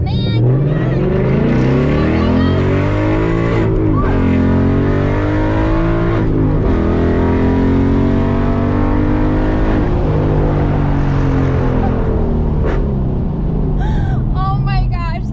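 A car on its first-ever drag racing run: loud, close engine climbing through a series of rising revs, broken by sharp shift breaks. The roar runs continuously at high volume from start to finish.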